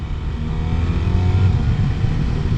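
A BMW R 1300 RS motorcycle accelerates through its gears on the road, giving a steady, close engine drone with a rising low rumble and no speech.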